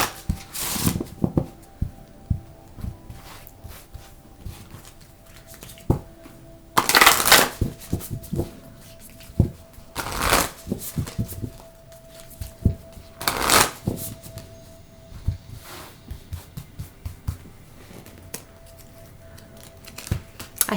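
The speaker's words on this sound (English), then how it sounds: "I'm going to just pre-shuffle everything right now" A deck of tarot cards is shuffled by hand in repeated bursts of riffling and flicking, with sharper clusters standing out between softer handling and tapping.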